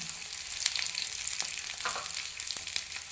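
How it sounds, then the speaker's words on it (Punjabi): Ginger and garlic fry in a pan with a steady, fairly close sizzle, broken by a few light knocks and scrapes from stirring. "ਨਾਲ ਹੀ ਪਾ ਦੇਣੇ ਹੈ ਅਦਰਕ ਲਸਣ ਇਹਨਾਂ ਨੂੰ ਵੀ ਪਕਾ ਲੈਣਾ ਹੈ"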